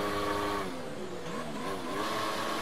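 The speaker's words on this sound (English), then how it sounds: "Why is it wheel spinning?" An F1 2019 race car in a video game spinning its wheels, a continuous whining engine tone that wavers up and down in pitch with tire noise underneath, loud and unbroken.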